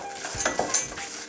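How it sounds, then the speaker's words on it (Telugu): Roasted peanuts tipped into a frying pan of golden-browning ingredients for uttapam chutney, with a spoon stirring and scraping against the pan in short clinks over a soft sizzle, close and alone without talk. "ఇలా కొంచెం బాగా ఫ్రై అయిన తర్వాత పల్లీలు వేసుకోవాలి."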